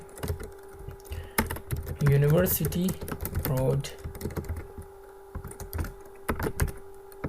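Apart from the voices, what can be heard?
typing an address on a computer keyboard in MS Word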